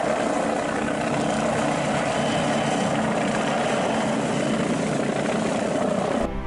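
Toy police helicopter giving a steady, continuous whirring rotor and motor drone at moderate level, uninterrupted for several seconds and cutting off abruptly at the end, with no talk over it.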